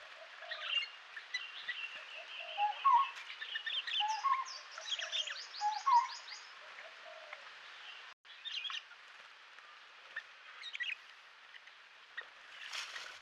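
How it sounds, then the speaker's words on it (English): Lineated barbet calling outdoors at a rocky pool, with repeated short hollow notes mixed among other birds' chirps and trills, moderately distant and fairly faint over light background noise. "That's a lineated barbet that you can hear calling."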